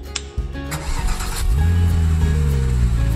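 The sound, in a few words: car engine starting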